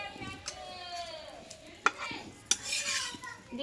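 Roti fries in white oil in a pan, with a soft sizzle under sharp clinks of a spoon against the pan and a brief louder hiss near the end; close and fairly quiet.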